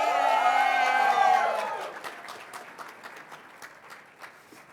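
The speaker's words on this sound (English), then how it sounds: "You cheer as loud as you want to for our finalists." A tech-event audience at CES 2012 cheers and whoops loudly for an app finalist, then the cheering fades into scattered clapping, with a voice over the opening.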